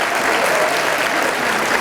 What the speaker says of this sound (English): Give them a hearty round of applause.